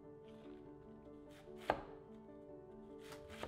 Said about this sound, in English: So we're just going to cut the cabbage in half, quarter it, and remove the hard core inside.